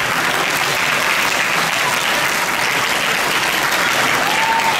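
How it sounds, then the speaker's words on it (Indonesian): Dense, sustained applause from an audience in a hall at a religious lecture and graduation ceremony at an Islamic boarding school, loud and steady for about five seconds with no talk over it. "Terima kasih tepuk tangannya."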